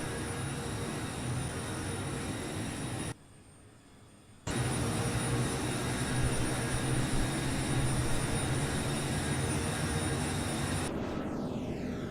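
Airbus A318 jet engines in the FSX flight simulator, a steady broadband roar with a constant high whine, briefly dropping out for a moment before resuming at full strength, no voices.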